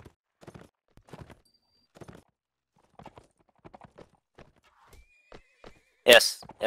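Horses neigh and hooves clip-clop during a cavalry battle in the Mount and Blade video game, with scattered short thuds and a loud whinny near the end, under intermittent talk.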